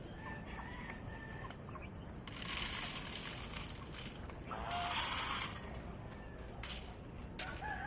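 Chickens cluck and squawk nearby in bursts, with a couple of louder outbursts, over a steady outdoor background hum.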